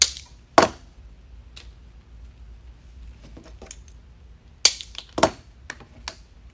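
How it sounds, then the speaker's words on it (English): A few sharp, isolated snaps of cutters going through a dry grapevine to split it into smaller pieces, close and crisp, with quiet handling rustle between the cuts. "on this one, I'm gonna cut it into 2 smaller pieces"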